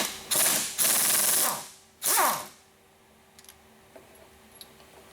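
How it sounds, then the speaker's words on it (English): A power driver fitted with a T60 Torx bit spins out screws on the end of a VW 02J TDI gearbox in three loud whirring bursts, followed by a few faint ticks and clicks of the tool. "we're using a T60 Torx to remove the these 2 screws on the end"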